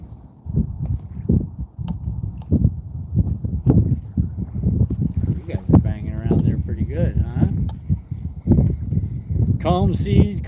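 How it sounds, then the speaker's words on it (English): Wind on a calm lake buffeting the microphone during a bass fishing outing, low rumbling gusts and thumps under frequent conversation, with boat movement sounds in the background. "You're just gonna have to take the wind."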